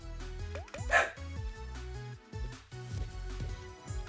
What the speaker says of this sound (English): I don't know if you guys can hear Bumble in the background just howling.